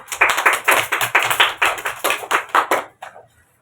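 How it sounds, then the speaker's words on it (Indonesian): Classroom clapping for a student group, a short burst of roughly a dozen distinct rhythmic claps from a small group, close and crisp, ending with a couple of scattered claps and then silence. "Oke, tepuk tangan untuk kelompok 3."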